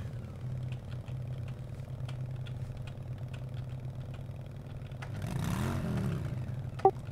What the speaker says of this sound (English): You hear me revving the motor on this thing?